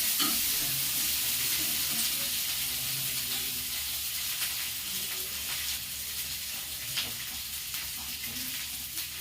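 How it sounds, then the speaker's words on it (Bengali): Raisins frying in hot oil in a pan give a steady bright sizzle with occasional stirring scrapes, close and continuous, with a soft voice faintly underneath. "এবার কিশমিশগুলোকেও ভেজে নেব।"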